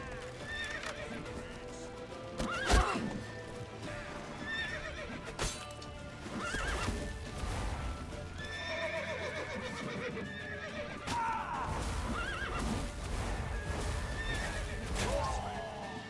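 Horse whinnying and hooves clip-clopping in The Witcher 3: Wild Hunt, with several neighs and steady galloping hoofbeats throughout, under shouted voices and game sounds.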